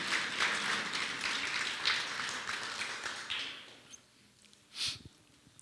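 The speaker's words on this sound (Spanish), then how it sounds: "Démosle un aplauso al Señor" A church congregation applauding after a call to praise the Lord, a full, even rush of clapping that tapers off after a few seconds into a quiet room with a stray sound or two.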